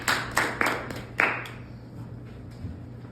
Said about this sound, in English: Everyone clap it up for yourselves.